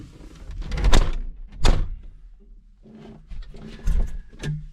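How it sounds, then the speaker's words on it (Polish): The cab door of a John Deere 5075 GV orchard tractor swings shut, making a couple of close, solid thunks followed by quieter rattles and creaks in the cab. "Zamknę drzwi na chwilę."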